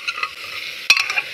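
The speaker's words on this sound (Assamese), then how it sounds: "গেছটো হাই ফ্লেমত থৈ ভাজি লৈছোঁ প্ৰথমতে" Pork fries over a high gas flame, fat crackling in a close, steady sizzle, with a sharp scraping stir of the spatula just before the one-second mark.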